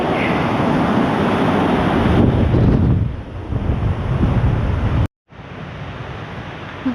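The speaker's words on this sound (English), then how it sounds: "The waves are crashing" Ocean surf crashes onto a beach at Pātaua under heavy wind buffeting the microphone, a loud rushing wash that eases midway and briefly cuts out before resuming.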